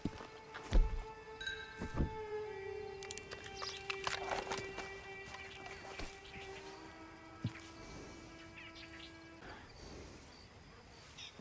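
Horse hooves in the video game Red Dead Online, irregular thuds and clip-clops of a horse moving over the ground, mixed with game ambience and faint background chatter.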